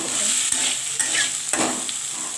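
Potatoes and cauliflower stir-fried in a pan with egg, a steady close sizzle broken by a few sharp scrapes and clatters of a spatula against the pan, with no talking.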